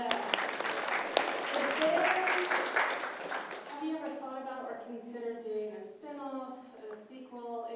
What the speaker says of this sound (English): Applause for Monster Squad, I see.